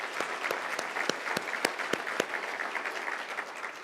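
Summit crowd applauding the governor at a healthcare plenary, steady dense clapping with a few sharp individual claps standing out near the front.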